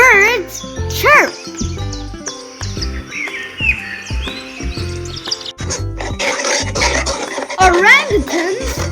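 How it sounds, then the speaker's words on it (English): Birds chirp in a children's wild-animal cartoon, with light tweets mostly buried under bouncy music and a voice. "Birds chirp."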